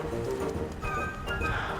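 Several horses clop and shuffle about close by, hooves thudding on the ground under steady low rumbling, with a brief whinny rising near the end; the horses are loose after a fence was taken down.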